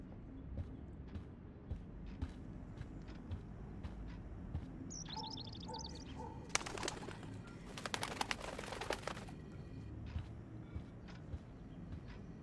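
Birds call in the video game Life is Strange, with a brief burst of chirps and a few cooing notes in the middle, faint amid a low ambient game backdrop and some scattered clicks.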